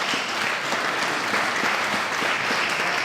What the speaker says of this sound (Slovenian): Tako da še en aplavz za vse